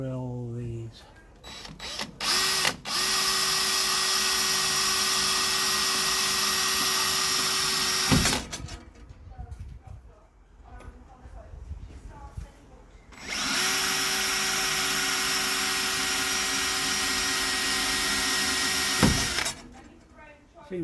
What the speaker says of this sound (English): So we've got our centre punched holes, and now drill these.